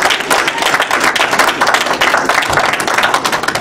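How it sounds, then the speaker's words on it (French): A church assembly applauds, a dense burst of many hands clapping close and loud, sustained without pause. "Mais acclamez un peu."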